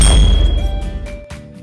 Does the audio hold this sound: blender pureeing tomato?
no